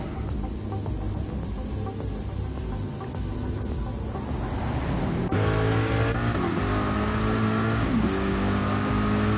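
Race car engines in a racing video game at a wet Suzuka circuit, a loud continuous droning roar with a sharp shift in pitch partway through as cars run together on track.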